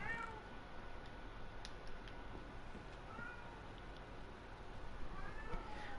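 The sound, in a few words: cat meowing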